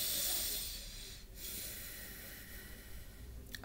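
A deep, slow breath taken during a guided meditation, an airy, close, hissing inhale and exhale that fills most of the short stretch with no talking over it.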